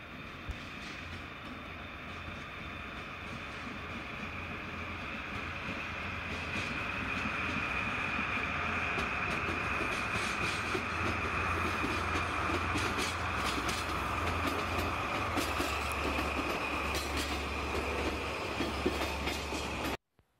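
A train on the Kansai Main Line, associated with a DD51 diesel locomotive, rolls past with a steady rumble and rhythmic wheel clatter that grows louder midway and continues until an abrupt cutoff.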